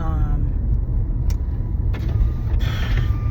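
A car drives along with a steady low engine and road rumble, a few faint higher clicks and tones passing over the continuous hum.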